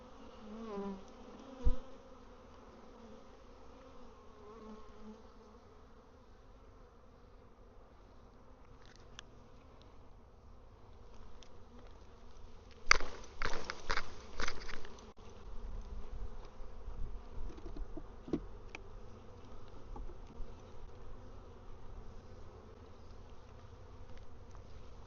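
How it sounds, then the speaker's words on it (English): Honey bees buzz and fly around an open hive during a mite-washing inspection, a steady droning hum that swells into a louder, busier burst of wingbeats midway and stays thicker afterward, with no talking. "All the bees that can fly will fly away."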